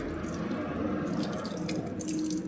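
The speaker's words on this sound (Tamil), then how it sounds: "இரண்டாவது கையை கழுவுறாரு" Water runs from a tap as hands are washed for wudu, a faint, steady trickle and splash of water at a sink with no talking.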